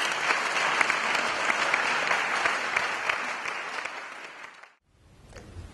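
Dense, sustained applause from a church congregation during a healing service in Côte d'Ivoire, loud and steady for nearly five seconds before cutting off abruptly, followed by quieter room sound.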